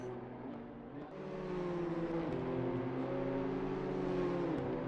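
Race car engine of an RTO BMW M2 in the British Championship droning steadily with shifting harmonic tones, a brief dip then rising again, sustained and fairly close throughout.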